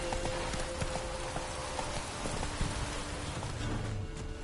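The horse Roach galloping in The Witcher 3: Wild Hunt, a steady, close rhythmic clip-clop of hooves over an outdoor ambient bed, with no talk.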